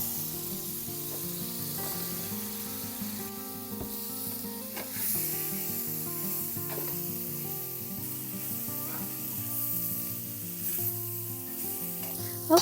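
Mushrooms frying in vegan butter or oil in a pan give a steady close sizzle with occasional stirring scrapes, under quiet background music.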